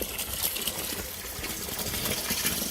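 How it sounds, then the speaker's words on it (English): Meltwater from thawing snow trickles and splashes steadily close by in a yard sump system, a soft continuous gurgling flow with small irregular drips. "so that's all just from the snow melting."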